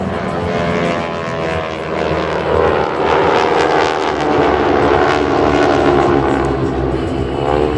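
Geico Skytypers propeller aerobatic aircraft roar overhead at the New York airshow, a loud, sustained engine drone that swells and fluctuates as the planes pass.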